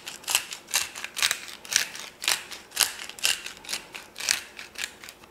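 A pepper grinder cranks over eggs in a bowl, giving a steady run of crisp, close ratcheting bursts about twice a second, with no talk.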